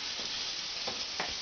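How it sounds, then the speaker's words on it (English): Meatballs sauté in a fry pan with a mix of olive and vegetable oil, giving a steady close hiss of sizzling oil with a couple of brief louder spits. "I put a little bit of like olive oil, a little bit of vegetable oil in a fry pan, and then you saute the meatballs."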